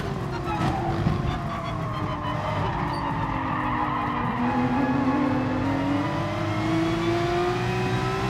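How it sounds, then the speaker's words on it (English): In the video game GT Sport, a race car drifts as its rear steps out, with tires squealing and skidding continuously over a steady, revving engine drone that climbs and falls in pitch. "I drifted it. Lost the rear."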